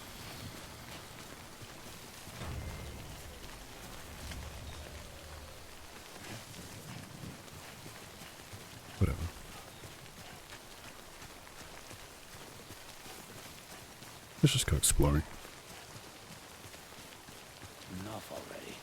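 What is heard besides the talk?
rain falling in video game Death Stranding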